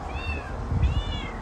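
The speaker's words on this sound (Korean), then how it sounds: "계속 이제 고양이 울음소리가 들리는 거예요" A trapped kitten meows from behind a closed door, two thin rising-and-falling cries spaced about a second apart, moderately near, over low background rumble.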